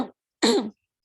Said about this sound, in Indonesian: saya agak kurang sehat, jadi membuat videonya dalam kondisi masih batuk gitu